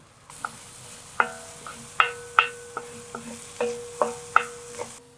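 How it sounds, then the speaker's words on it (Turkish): Garlic, ginger and scallion whites hit a little hot oil and sizzle steadily, while a utensil stirs and scrapes the pan in repeated sharp knocks. The cooking is close and clear, with no talk. "Hemen bu yağın içine şöyle sarımsak, zencefil ve taze soğanın o beyaz kısımlarını atıyorum."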